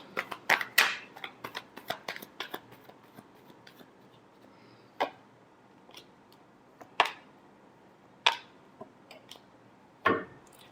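Tarot cards being shuffled, heard as quiet papery riffles and flicks in a quick cluster near the start, then single sharp card slaps spaced a couple of seconds apart against near silence.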